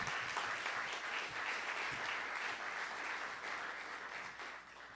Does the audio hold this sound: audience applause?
yes